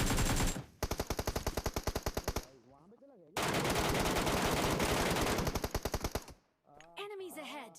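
Automatic AKM gunfire in the PUBG Mobile video game, two long loud bursts of rapid rhythmic shots separated by a brief pause, with a voice talking in between and afterward.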